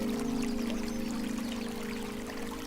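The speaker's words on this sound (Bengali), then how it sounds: "এখন আমি কিন্তু এক, এক করে সব বোতলেই কিন্তু জল দিয়ে দিতেছি" Water pours steadily into plastic bottles holding money plant cuttings, a close, continuous stream with a faint rising gurgle as each bottle fills, heard alone without talk.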